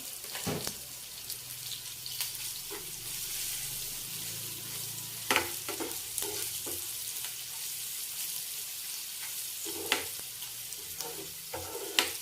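Lentil dal tempering with turmeric frying in a pan, a steady low sizzle broken by occasional sharper scrapes and clinks of stirring, close and moderately quiet with no voices.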